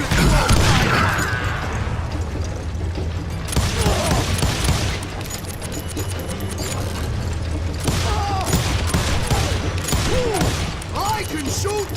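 Gunfire in the Western shooter Call of Juarez: Gunslinger, a dense spread of shots and heavy booms with mechanical clatter across the whole stretch, loud and close, while a voice speaks over parts of it.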